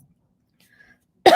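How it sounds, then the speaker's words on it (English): A single sharp cough bursts out abruptly at the end, loud and close, after near silence. "Sorry, guys, I have a slight cough"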